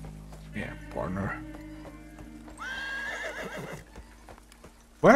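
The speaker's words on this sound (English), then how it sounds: "Why are horses screaming all the time?" Horses in the video game Desperados III whinny and neigh loudly several times over hoof clip-clops, with a sharp burst of sound at the very end.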